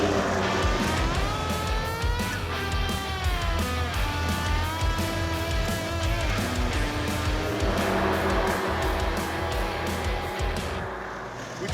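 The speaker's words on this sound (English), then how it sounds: "What is that noise? It sounds like the clutch coming apart." An AMC Pacer on a road trip gives off a loud, steady drivetrain and engine drone, with a rough mechanical clutch noise running throughout and wavering tones that rise and fall with speed.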